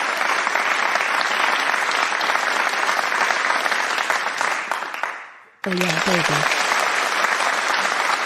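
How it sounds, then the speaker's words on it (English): Applause at a school assembly, many hands clapping loudly and steadily, fading briefly then resuming at full strength, with a short spoken exclamation over it. "You can hear lots of clapping hands and lots of applause."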